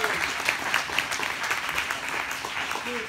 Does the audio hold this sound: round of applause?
yes